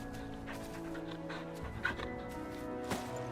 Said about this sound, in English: You can pet the dog.